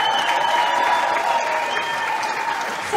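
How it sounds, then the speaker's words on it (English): A crowd at an outdoor political rally applauds steadily, a dense wash of clapping with scattered cheers that holds for a few seconds and eases slightly toward the end. "Can everybody just give Presley a huge round of applause for a second"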